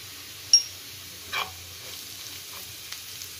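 Onions frying slowly on low heat for biryani beresta give a faint, steady sizzle close by, with a few soft clinks and taps from the pan.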